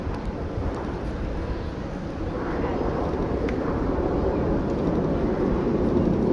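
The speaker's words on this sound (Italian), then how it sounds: "scendono man mano i giri del motore, mentre l'aria diventa sempre più pesante sul musetto del suo MB339" An MB339 jet performs at the Jesolo air show, its engine a deep, distant roar with windy rumble that slowly builds in loudness.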